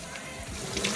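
A kinky curly wig closure is scrubbed under running water to rinse off leftover sealer. The water makes a soft, continuous splash and trickle, with faint rubbing and a voice in the background.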